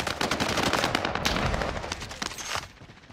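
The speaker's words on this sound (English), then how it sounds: "Shooting." Rapid machine-gun fire rattles in a video game, dense bursts of loud, close shots, with a few brief pauses between volleys.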